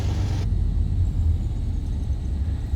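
Black Square Duke aircraft engine idling in a flight simulator, a steady low rumble that holds evenly after a brief hiss at the start, with no talk.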